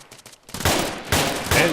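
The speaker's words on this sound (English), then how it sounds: "And shots ringing out here." Rapid gunfire crackles out in bursts after a quiet start, loud sharp reports echoing outdoors at a scene where smugglers await a convoy, several volleys in quick succession.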